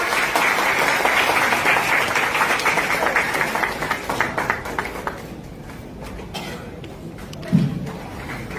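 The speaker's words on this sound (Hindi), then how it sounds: "जोरदार तालियां सबके लिए, एक बार आइए, बहुत ही जोरदार तालियां।" An audience at an industrial business gathering gives loud, dense applause for several seconds. The clapping thins out and fades, leaving quieter room noise and a single dull thump near the end.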